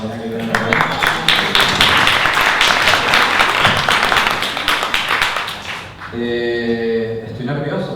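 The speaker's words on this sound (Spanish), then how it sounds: "un aplauso a mi hermana Marinés que viene también." Loud enthusiastic applause from a crowd, dense clapping for several seconds that fades out, followed by a person speaking.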